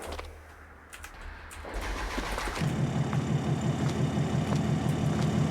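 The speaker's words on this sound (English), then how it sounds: "So let's go ahead and hear this truck roar." A third-generation Cummins diesel truck with a big straight-pipe exhaust and axle dump, in Farming Simulator 22, cranks and fires up, then settles into a loud, throbbing idle that continues to the end with no talking.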